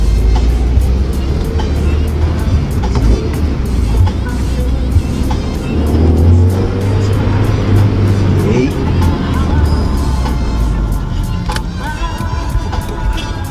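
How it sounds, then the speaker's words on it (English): A silver Honda Ballade 180i drives on a test drive, its engine a steady loud drone with road and wind rumble filling the whole stretch, recorded from inside or close to the car. "we're gonna take Jody's car for a test drive"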